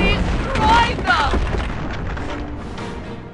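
In the Company of Heroes video game, a satchel charge explodes in a building as a heavy rumbling boom. Shouted soldier voices and battle noise run through it, and the blast fades out over a few seconds.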